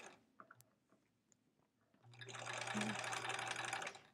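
A sewing machine stitches a scant quarter-inch quilt seam, running in a steady mechanical whir for about two seconds after some light clicks and handling taps. It is close and fairly quiet.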